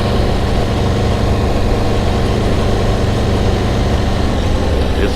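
An Aprilia 1100 Factory motorcycle engine runs with a steady, loud, continuous drone that stays even throughout, heard up close with no voices.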